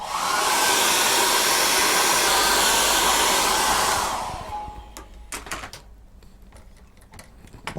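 Hair dryer blowing steadily on a washed acrylic paintbrush, a loud close whoosh that cuts off after about four seconds, followed by light clicks and taps.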